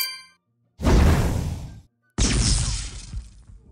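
Two bursts of game-style impact sound effects, each a loud metallic clang with shattering debris that trails off, separated by a short silence.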